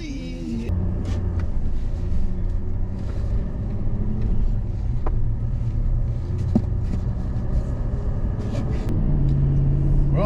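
A 2022 Chevy HD 2500 LTZ with the Duramax 6.6 diesel runs steadily at idle, a loud, even, low rumble close to the truck, with no talk over it.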